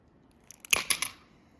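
Piece of stained glass being cut by hand, a short burst of crisp crackling, scratching snaps lasting under a second, close and fairly quiet, then fading out.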